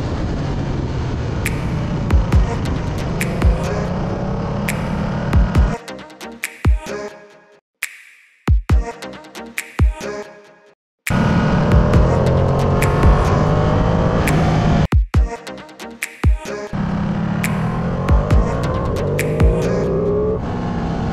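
A Ducati Panigale V2 laps the Buddh International Circuit on a track day, its engine roaring loudly and close through long high-revving pulls, with sharp gear changes and brief throttle cuts and dips before it surges again.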